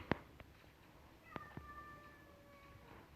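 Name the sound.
cat meowing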